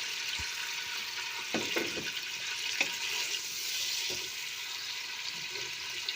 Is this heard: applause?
no